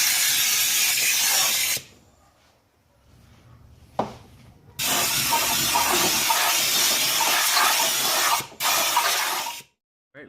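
Bursts of compressed air hiss loudly as dirt and old RTV sealant are blown off the valve cover surface of a 2003-2006 Kia Sorento, with two long blasts and a short final puff separated by quiet pauses.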